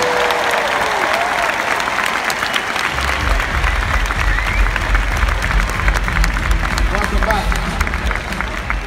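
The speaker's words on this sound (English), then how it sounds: "Applause, please, for the Grammys" Grammys audience applause, dense steady clapping with crowd babble throughout, loud and continuous, joined partway by a low rumbling bed of stage sound.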